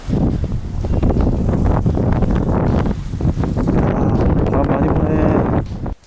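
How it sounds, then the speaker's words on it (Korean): Strong wind gusting outdoors at an indoor fishing facility, a loud, steady broadband rush buffeting the microphone for several seconds before it suddenly cuts off near the end. "바람 많이 부네."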